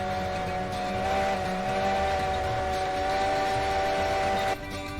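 Steam locomotive whistle in the train game Railroads Online: a sustained, loud, steady tonal blast running nearly five seconds over rumbling train noise, then cutting off.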